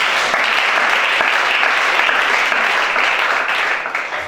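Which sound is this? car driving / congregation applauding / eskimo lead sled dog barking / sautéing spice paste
congregation applauding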